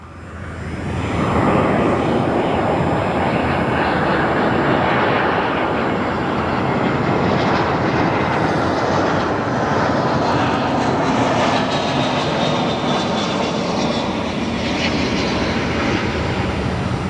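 A Star Alliance airliner arrives at O'Hare International Airport, its jet roar swelling quickly and then holding as a loud, broad rumble for many seconds before slowly easing, with no voices.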